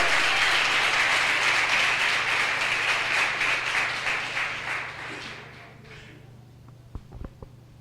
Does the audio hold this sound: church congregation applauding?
yes